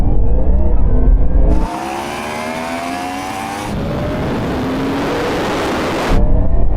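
A Ferrari SF90 and a Porsche Taycan Turbo GT launch in a roll-on race from 50 mph. Loud drivetrain whines climb in pitch as they pull away, with rushing wind in the middle and no talk.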